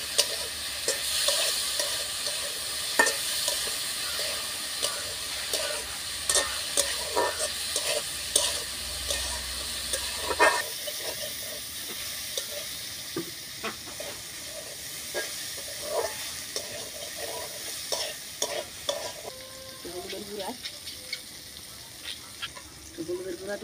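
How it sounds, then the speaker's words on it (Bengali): Potatoes and bitter gourd with puti fish frying in a pan, stirred with repeated scraping and clattering strokes over a steady hiss of steam and sizzle, close by, with speech heard at times. "ঢাকনাটা রেখে দিচ্ছি, এখন নাইড়ে ছেড়ে দিই একটু।"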